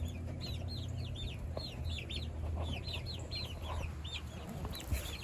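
Backyard chickens scratch in the dirt and give soft, repeated clucks and short chirpy calls at low volume over a steady outdoor hum.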